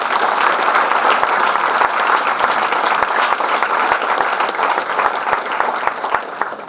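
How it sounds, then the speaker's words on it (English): A cultural event audience gives a loud, sustained round of applause, dense crowd clapping with sharp individual claps standing out, close and continuous throughout. "Can we have a round of applause?"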